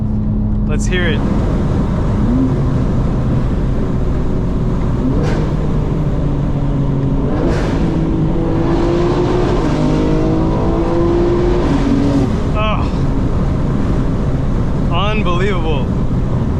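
A 2025 BMW M4 Competition xDrive is driven at night, its engine droning loud and close from the cabin as revs rise and fall through gear changes, with occasional sharp clicks and squeaks.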